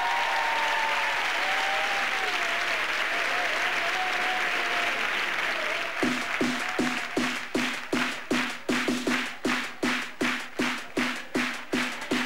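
A large crowd at a Club Time DJ set applauds loudly, first a dense continuous roar of clapping with a whistle-like tone, then turning into steady rhythmic group clapping in time.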